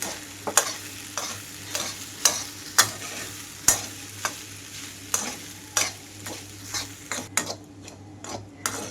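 A spoon stirs tempering through mango rice in a pan, scraping in a steady series of sharp, close knocks and scrapes about every half second over a faint low hum, with no talking.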